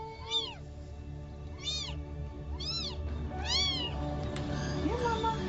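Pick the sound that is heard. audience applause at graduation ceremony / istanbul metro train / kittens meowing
kittens meowing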